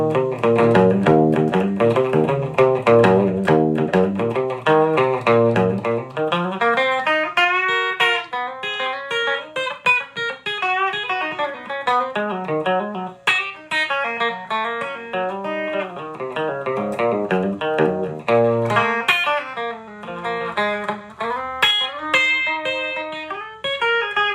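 A 1961 Fender Stratocaster electric guitar played through its bridge pickup, with a bright, slightly driven tone running through a continuous melodic phrase of bends and sustained notes, loud and alone.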